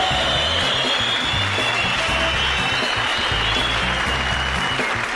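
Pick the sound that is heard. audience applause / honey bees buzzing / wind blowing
audience applause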